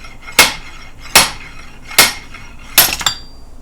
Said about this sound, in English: let's just give it a couple whacks